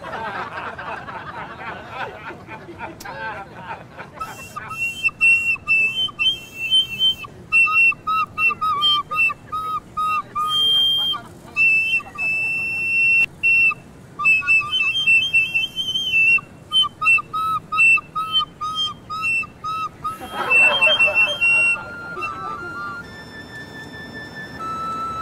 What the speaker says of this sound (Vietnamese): sao mà ai nghe tiếng sáo của tôi cũng xa lánh tôi vậy trời